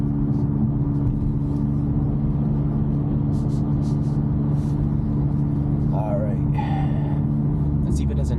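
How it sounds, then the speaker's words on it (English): Steady low rumble from a catless Toyota Camry four-cylinder engine while driving in traffic, droning evenly with slight shifts in tone and brief chirps over it, with a voice talking. "Yeah, you see it's like slowly downshifting."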